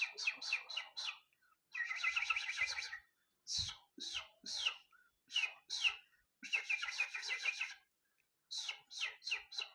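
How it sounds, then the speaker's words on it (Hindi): A house sparrow gives rapid high chirps in several bursts separated by short pauses, fairly close and clear against a quiet background. "ये थी वो स्पैरो की आवाज़"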